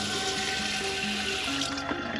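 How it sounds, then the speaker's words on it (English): Water runs from the sink tap inside a self-built Peugeot Boxer L2H2 campervan, a steady close rushing splash with gurgling, continuous and alone. "Obviously running water."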